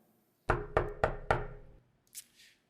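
Four firm, evenly spaced knocks on a home door, close and sharp, followed by a brief faint rustle.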